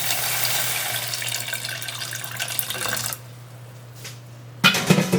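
Water poured into a bowl of dry-roasted lentils, a steady broadband splashing stream that runs loudly for about three seconds, then stops, followed by a brief trickle and a short clattering burst near the end.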